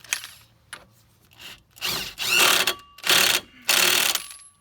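A ratchet tightens a 1 1/4 inch axle hub nut on a 2001-2007 Dodge Grand Caravan during CV axle repair, giving several loud bursts of rapid clicking separated by short pauses.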